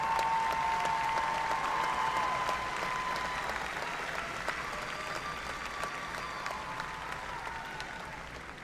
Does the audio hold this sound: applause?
yes